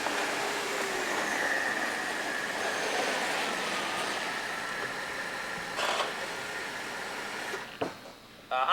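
A Mercedes-Benz S550 4MATIC with a smooth, quiet engine and 7-speed transmission, driving along with a steady, muted cabin hum and broadband road noise, briefly dipping near the end.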